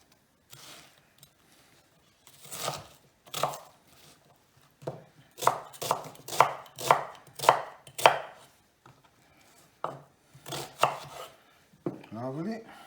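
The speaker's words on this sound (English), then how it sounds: "roughly chop." Fennel roughly chopped with a knife on a board, a dozen or so crisp close thuds and crunches in irregular bursts separated by brief pauses.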